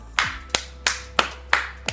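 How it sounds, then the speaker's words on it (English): About five sharp hand claps ring out close by, evenly spaced roughly a third of a second apart, with no other sound around them. "Give that man a round of applause."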